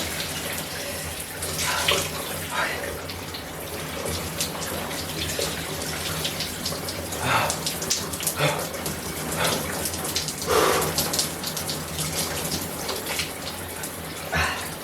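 Shower water runs steadily throughout, a continuous splashing hiss with occasional louder spatters as someone moves and stretches under the cold spray.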